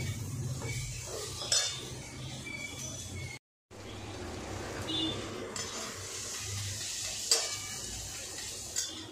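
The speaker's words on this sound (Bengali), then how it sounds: "দেখো, আমার পেঁয়াজ, রসুন, কালো জিরে সব ভালো মতন ভাজা হয়ে গেছে।" Onion, garlic and black cumin frying in a pan for a pointed gourd mash, a steady low sizzle with occasional clinks and scrapes of a utensil against the pan, broken briefly by a short silence.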